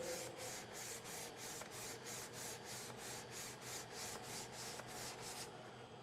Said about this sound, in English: Before you switch grits, you should sand along the grain.